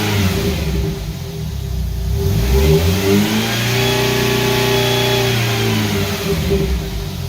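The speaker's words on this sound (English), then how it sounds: "So let's give it a rev real quick." A car engine idles, then revs up and holds at higher RPM before easing back toward idle, steady and close with no talk.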